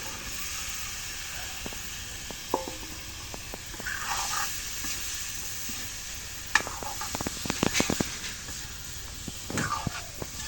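Vegetables go into a pan of fried spice paste for a potato and pointed gourd curry, giving a steady low hiss with scattered sharper sizzles and spoon scrapes against the pan.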